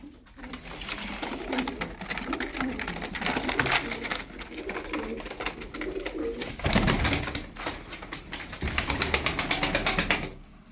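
Tumbler pigeons cooing in a loft, repeated throaty coos with rustling and some wing flaps, close and fairly loud, with fluctuating bursts throughout.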